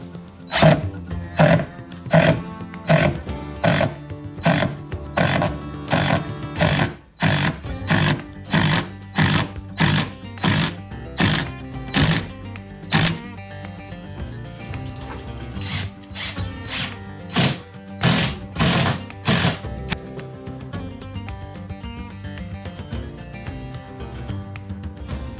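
A power drill drives 3-inch screws to fix a door security plate, whirring in repeated short bursts with ratcheting pulses, loud and close, then a longer continuous run and a few final bursts.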